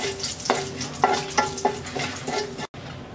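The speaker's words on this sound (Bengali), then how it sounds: "গোটা মশলাটা হালকা একটু ভেজে নেব।" A torn bay leaf, a piece of cinnamon and three cardamom pods fried in oil in a pan: a close hiss broken by rhythmic spoon scrapes and taps about every half second, ending with a sudden brief silence.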